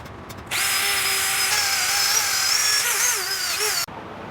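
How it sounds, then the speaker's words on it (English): A power drill fitted with a wire brush whirs loudly and steadily up close for about three seconds, pitch wavering slightly under load, as it scrubs rust off VW Beetle body-to-chassis washers before cutting off abruptly. "A little bit of wire brush action, and then for the fine points, one of these ones here."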